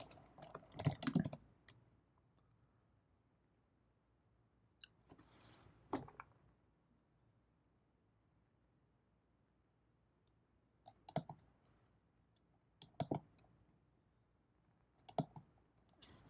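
Bursts of typing on a computer keyboard, quick clustered clicks at close range separated by long quiet pauses, with no talking.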